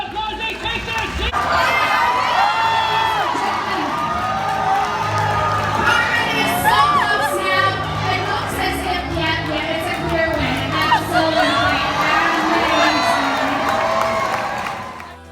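A crowd cheering and applauding for about fifteen seconds, with children's shouts and whoops rising above continuous clapping, loud and lively with voices mixed in.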